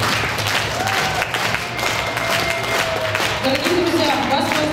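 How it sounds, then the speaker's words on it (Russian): Audience at a fourth-grade primary school graduation gives the class teachers a sustained round of applause: thick, continuous clapping throughout, with a crowd murmur and faint voices beneath it. "Благодарим классных руководителей бурными аплодисментами."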